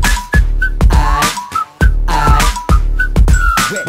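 Bright, clear whistled notes ride over a pounding rap beat with heavy bass thumps, recurring in short melodic phrases between the drum hits throughout.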